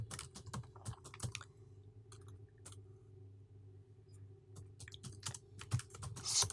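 Rapid clicking keystrokes on a computer keyboard while typing code, coming in irregular close bursts with short pauses and a few louder key taps over a low steady hum.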